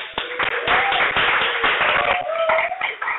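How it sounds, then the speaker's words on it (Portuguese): Classroom applause from students in a programming lecture, a dense burst of clapping lasting about three seconds while someone talks over it. "Palmas para Leonardo."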